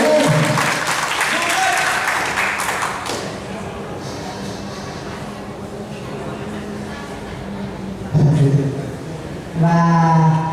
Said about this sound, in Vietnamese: cho các bạn một tràng pháo tay rất to.